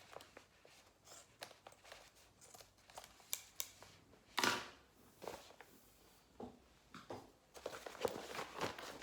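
Scissors snip through the leftover end of a zipper on a creative sewing project, a handful of short, crisp cuts and light handling noises close by, with no talking.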